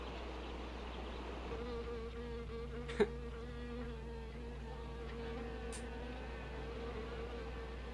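Bees and flies buzzing in the soundtrack of a 1959 film, a faint, steady insect drone with a sustained hum, one brief sharp click partway through and no talk.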